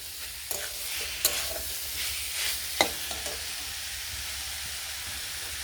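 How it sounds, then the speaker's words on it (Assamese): Boiled rajma fries with masala in a pan, a soft continuous sizzle broken by a few sharp stirring scrapes and clinks, close and fairly quiet, with no talking. "আৰু এতিয়া ৰাজমাখিনি মই মছলাখিনিৰ সৈতে 2 মিনিট টাইম ফ্ৰাই কৰি ল'ম।"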